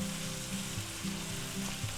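Onions and peppers sizzle steadily in a frying pan that previously held sausage, a continuous close hiss and crackle with faint stirring and no talk.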